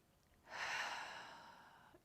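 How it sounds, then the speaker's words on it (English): One deep breath during a stretching session, a close, airy exhale that swells quickly and then fades slowly over about a second and a half. "starting with 3 deep breaths"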